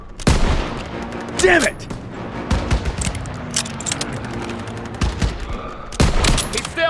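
Bursts of rifle and machine-gun fire in a Second World War battle from Call of Duty WW2, loud and close, with sustained rattling volleys, sharp single shots and shouted voices between them.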